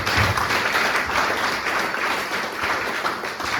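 A church congregation applauding, steady dense clapping that fills the space evenly and continuously from start to finish, fairly loud and without a break.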